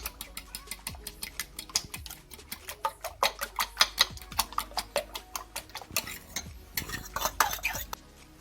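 A spoon scrapes and clinks rhythmically against a bowl while stirring tuna pie filling, a steady run of close, sharp taps and scrapes.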